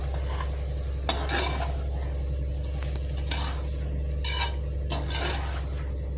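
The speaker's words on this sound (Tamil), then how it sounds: "இந்த அரிசி கொஞ்சம் ப்ரானோடு சேர்த்து வதக்கி" Rice and prawns sizzle in a hot pan while a utensil stirs and scrapes them, with occasional clinks over a steady low hum.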